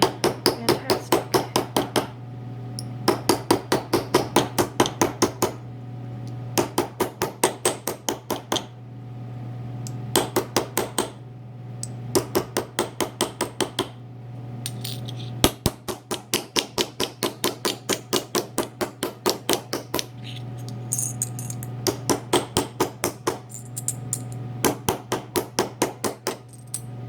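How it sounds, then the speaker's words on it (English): Repeated bursts of sharp metallic hammer strikes flatten a bottle cap for earrings, fast rhythmic taps in clusters of a dozen or so with short pauses between, close and loud over a steady low hum. "see if I don't have to hammer this as much"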